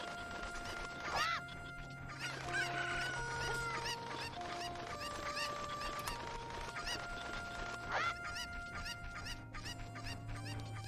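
Cucco chickens in the video game Zelda: Ocarina of Time cluck and squawk repeatedly in quick, overlapping bursts over a low steady background tone, moderately loud and with no speech.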